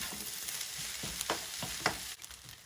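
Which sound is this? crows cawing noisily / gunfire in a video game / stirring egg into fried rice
stirring egg into fried rice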